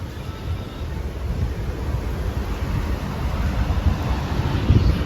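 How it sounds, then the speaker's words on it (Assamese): Strong wind blows outdoors as stormy weather darkens the sky, a continuous low rumbling gust noise that builds slightly toward the end and buffets the microphone, with no voices. "যিহেতু বহুত বতাহ মাৰি আছে"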